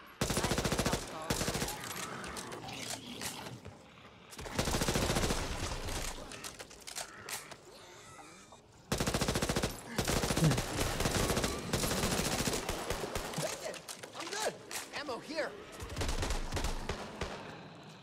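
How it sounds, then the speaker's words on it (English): Rapid automatic gunfire from a character in the co-op shooter Back 4 Blood, coming in loud, long bursts separated by quieter gaps, with game sounds between the volleys. "He's shooting everywhere."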